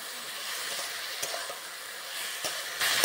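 Rohu fish curry masala with slit green chillies sizzles and fries in a pan while being stirred, a continuous close hiss broken by a few sharp scraping stirs, with no talking.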